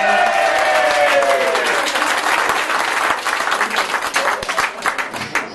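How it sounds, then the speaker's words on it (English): An audience at a comedy stage hypnosis show breaks into loud, dense applause that holds steady, then thins out into scattered, uneven claps toward the end. "everyone wants to give you a round of applause for something"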